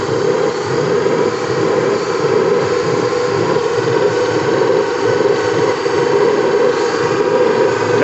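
Live-steam engine of a small speed boat with a double-flow boiler running at full open throttle, a loud, steady, dense mechanical roar that stays constant throughout with no talk.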